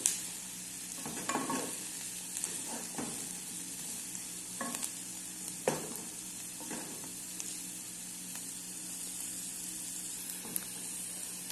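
Onion browns in butter in a pan with a steady, close sizzle, broken by several louder scraping stirs. No one speaks.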